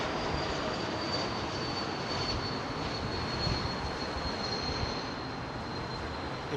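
An Embraer E2 jet climbing after takeoff at Heathrow, a steady broad rushing engine roar with a faint high whine, moderately distant and unbroken.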